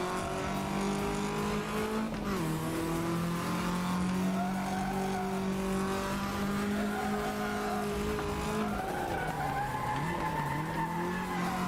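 A video game car under full throttle holds a steady high engine drone while its tyres squeal and skid through turns, pitch dipping and climbing as it slides into oversteer, loud and continuous with no talk.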